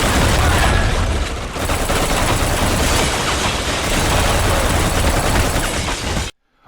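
Relentless gunfire and explosions in the PS2 shooter Black, a dense continuous barrage of rapid shots and booming blasts at high volume that cuts off abruptly into silence at the end.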